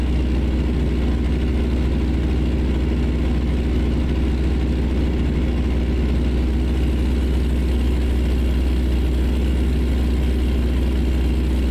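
Heavy truck engine in American Truck Simulator running steadily with the engine brake on during a slow special-transport haul from Denver to Grand Junction, Colorado; a continuous loud low drone with no talk.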